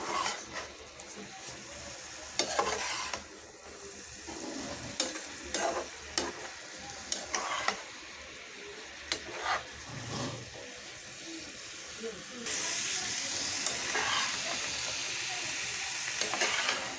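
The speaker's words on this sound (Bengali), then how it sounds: "এখন আমি ভালো করে এটাকে ভেজে নেব।" Boiled winter vegetables and greens frying in a pan, with a continuous sizzle broken by repeated scraping and clattering stirs at an uneven rhythm and louder frying toward the end, close by and without talk.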